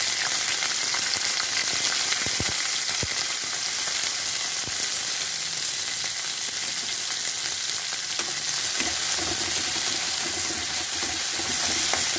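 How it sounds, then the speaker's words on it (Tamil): Pieces of pirandai (adamant creeper) fry in a little hot oil, giving a steady, dense sizzle with occasional stirring clatters throughout, and no one speaks. "எண்ணெய் ஹீட் ஆகிட்டு இப்போ நான் பிரண்டையை போட்டுக்கிறேன்"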